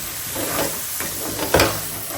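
Spice paste sizzling and fried in a pan for a spicy Bengali chicken bhuna, a steady hiss broken by a couple of brief scraping stirs near the end, close and moderately loud with no voices.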